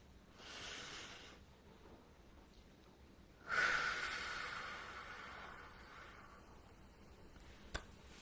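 Breathing in a quiet room: a soft inhale, then a longer, louder airy exhale that fades slowly, followed by a small click near the end.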